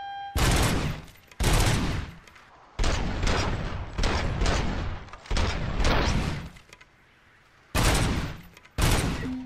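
Gunfire from the Auto-9 pistol with magazine feeder in RoboCop: Rogue City, loud close bursts of rapid shots repeating in clusters with short pauses between, no reloading breaks.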